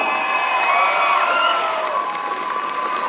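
Crowd at a cosplay contest in Lorient applauding and cheering loudly, with sustained clapping under whoops and shouts for about three seconds.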